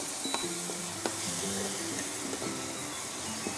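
Spice paste for a ridge gourd kofta curry frying with a splash of water in a pan, a steady soft sizzle with occasional stirring clinks, plus a faint background hum.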